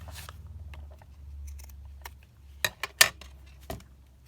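Scissors trim paper for a junk journal at close range, a few quick crisp snips near the end after softer handling noises, with no talking.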